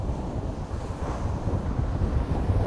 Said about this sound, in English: There's some nice waves.